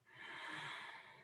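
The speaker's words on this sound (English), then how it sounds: "squeeze the ribcage, tongue to the top of the mouth, breathe in" A deep, steady breath drawn in through the mouth during a stretching exercise, one smooth, airy inhale lasting about a second, close and soft with no talking.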